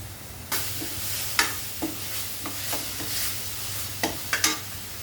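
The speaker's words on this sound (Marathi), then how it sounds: "आपला हा मसाला छान परतला आहे" Masala frying in a pan while a spoon stirs it, with a steady low sizzle and several sharp scraping and clattering strokes at irregular intervals, close and moderately loud with no talking.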